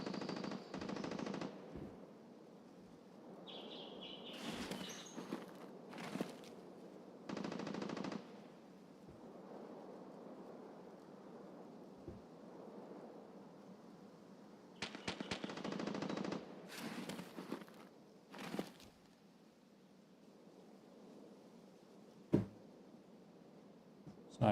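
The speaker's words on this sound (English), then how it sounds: "What's all that shooting?" Repeated bursts of gunfire in a PvP shooter game, rapid automatic volleys of varying loudness scattered through the scene, some close and sharp, others more distant, with quiet stretches of ambient noise between them.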